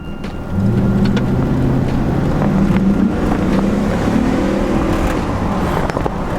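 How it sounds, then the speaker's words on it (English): A 2003 Chevrolet Silverado pickup with about 200,000 miles and a faulty transmission, its engine revving up steadily from inside the cab, a loud continuous drone with rising tones and road noise throughout. "Let's go ahead and give it a little gas."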